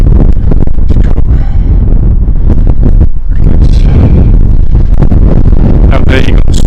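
Strong wind buffets the microphone outdoors on a windy day on the coast overlooking the Solent and the Isle of Wight, a loud, continuous rumbling roar with gusty surges throughout.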